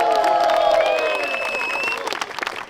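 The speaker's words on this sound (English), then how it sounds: "Let's round of applause for our volunteers." A crowd at an outdoor press conference in Balboa Park applauds with some voices over the clapping. It starts full and loud, then thins into scattered claps toward the end.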